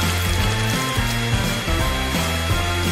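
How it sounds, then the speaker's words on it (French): A hair dryer blowing on Skittles candy paint coated over a chocolate cake, a loud continuous roaring whir with wavering motor pitch, close and unbroken. "J'ai besoin d'un sèche-cheveux pour faire fondre la peinture des Skittles."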